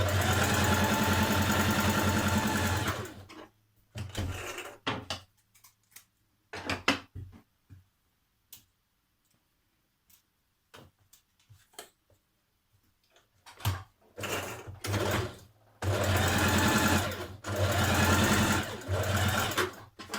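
A sewing machine runs in several long loud bursts while stitching a dress seam close to the fabric edge, broken by quiet pauses with small clicks and handling noises between runs.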